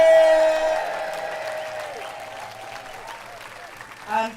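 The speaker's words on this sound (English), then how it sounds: "let's give the choir a really," An outdoor community singing event crowd cheers and applauds for the bands and choir, loud at first and fading over a few seconds, with a brief voice near the end.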